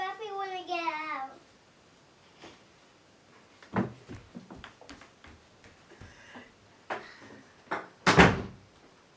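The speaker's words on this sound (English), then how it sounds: "the door's closed" A door is shut indoors at home, with a voice briefly at the start, then scattered light knocks and clicks, a firm thud partway through and a louder, sharper slam near the end.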